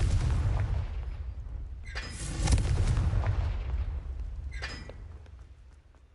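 Confringo blast spell exploding in Hogwarts Legacy, a deep booming blast followed by a second sharp burst and a rumbling, fading tail, loud and alone with no talking.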